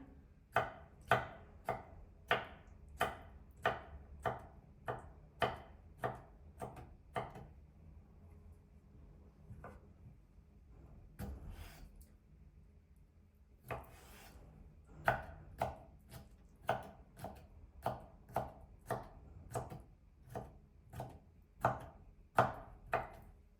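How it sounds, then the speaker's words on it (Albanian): Cucumbers being diced into small squares with a knife on a board, a long run of crisp, evenly spaced chopping taps, pausing briefly midway before the steady rhythm resumes. "Marrim kastravecat dhe kastravecat i prejmë në katrore të vogla."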